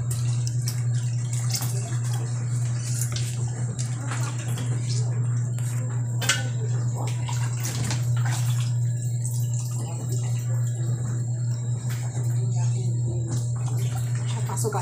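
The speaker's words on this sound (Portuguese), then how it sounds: "Esse barulho, gente, é o tanquinho que tá com roupa ali na mão." A small tanquinho washing machine runs with clothes inside, giving a constant low motor hum under splashing water and clinking kitchen sounds during food preparation, while a person talks.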